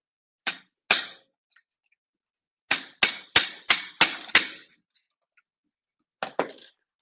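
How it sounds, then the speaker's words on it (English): Sharp metal hammer strikes: two blows, a pause, a quick run of five, then two more, ringing out in an otherwise quiet space. "So I made a hole using a nail."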